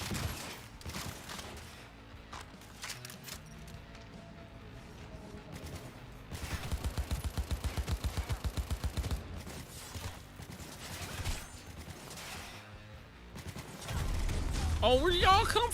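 Shotgun blasts in Cyberpunk 2077 mixed with heavy combat noise, sharp irregular bangs among mechanical clatter, with a dense rapid run in the middle.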